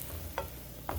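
Eggplant frying in butter in a pan, a soft steady sizzle broken by two brief scraping clatters as pieces are turned, close and fairly quiet, with no voices.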